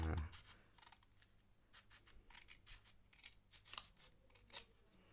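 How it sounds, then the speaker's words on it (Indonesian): Scissors snip fabric while shaping a raglan sleeve, a quiet series of short, irregular cuts, close and faint. "di bagian reglannya kita gunting bentuk sesuai dengan selera"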